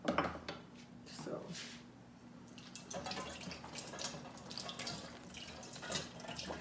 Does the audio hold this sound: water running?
yes